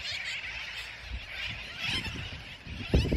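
Many seabirds on the Dry Tortugas islands squawk and shriek together in a constant, raucous din, with rough low thumps of wind beneath the calls.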